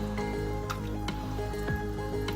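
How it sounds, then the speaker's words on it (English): Goulash in a pot being stirred after tomato sauce and three cups of water go in, giving soft wet squishes and sloshing scrapes at a steady close level, with no talking. "And I'm going to give that a good stir."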